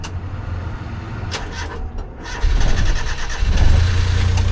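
An roughly 40-year-old Subaru Domingo at a Hawaii JDM car show cranks over for a couple of seconds, then catches and settles into a loud, close idle with a slight rev.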